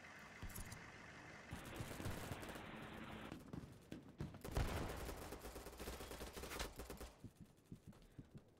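Distant gunfire echoes from across the map in BattleBit Remastered, quick bursts of shots and rattling fire scattered over several seconds, faint under busy game noise and thumping impacts.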